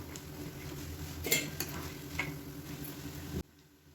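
Crispy potato snacks fry in hot oil and are scooped out with a metal utensil: a soft continuous sizzle with a few sharp clinks and scrapes, then it cuts off abruptly near the end.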